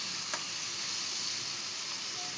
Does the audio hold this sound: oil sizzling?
yes